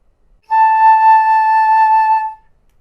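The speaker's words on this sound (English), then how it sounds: "I blow my air across this part called the embouchure hole to make a sound like this." A flute is played by blowing across the embouchure hole, producing one steady sustained note of about two seconds with a clean, bright tone and strong overtones, heard alone.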